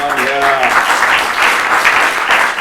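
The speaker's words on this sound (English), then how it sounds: "Give him a round of applause, everyone." Audience applause for a short-film director at a screening program, steady dense clapping throughout, with a brief voice tone at the start.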